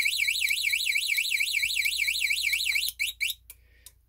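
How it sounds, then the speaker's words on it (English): A cheap Chinese moped motorcycle alarm used as a vehicle finder wails with a rapid, warbling electronic siren, loud and steady for about three seconds, then breaks into a few short chirps before falling quiet. "This one here is like a vehicle finder, so it just sounds the alarm,"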